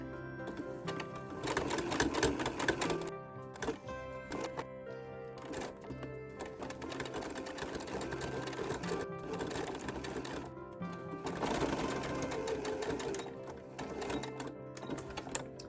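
A home sewing machine stitches a fabric scrunchie with a steady, rapid mechanical clatter that runs in long bursts, pausing briefly now and then before picking up again.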